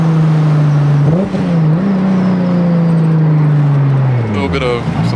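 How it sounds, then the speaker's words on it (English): A car engine hums steadily, then its pitch swings up and down during rev-matching blips, closing with a falling drone, loud and close, with a voice talking over it. "A little bit of some rev matching action"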